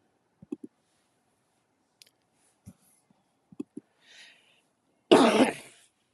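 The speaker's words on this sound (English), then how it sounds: "Sorry for the cough." A short burst of harsh coughing near the end, preceded by scattered soft clicks and small mouth noises in an otherwise quiet room.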